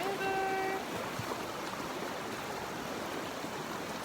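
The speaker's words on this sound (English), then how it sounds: "Down here at the river." A river flows at the bottom of a climb, a steady broadband rush of water running throughout, fairly loud and close, with a brief tonal beep near the start.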